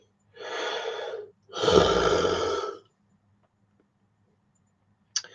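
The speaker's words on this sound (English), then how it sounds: "Stop yawning." A person yawning, two long breathy exhalations with a short gap between them, close and fairly loud, followed by silence and a brief click at the end.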